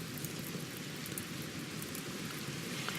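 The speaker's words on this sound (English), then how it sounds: "fog rolls in and it starts to rain" Steady rain hisses down in the colony-building game RimWorld as fog rolls in, an even, dense wash of falling drops with no pauses and nothing else audible.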